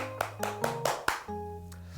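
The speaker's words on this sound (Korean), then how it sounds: "모두 수고의 박수 한번 하도록 하겠습니다." A handful of sharp hand claps from a church online Bible class, five quick slaps in the first second, heard over a steady sustained keyboard-like tone that carries on alone afterward.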